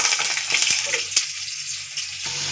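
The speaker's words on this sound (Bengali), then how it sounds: "ওই তেলেই আলুটাও ভেজে নেবো।" Potato pieces fry in oil for a pointed gourd pakora curry, a close crackling sizzle punctuated by a few sharp utensil taps.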